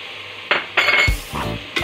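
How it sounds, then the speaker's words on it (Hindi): Yogurt is added to spices in a cooking pot for black chickpea biryani, with a metal spoon clanking and scraping against the pot in several short, close strokes and a brief sizzle. "मसालों को हमने अच्छे से भून लिया है, अब हम इसमें दही ऐड कर देंगे"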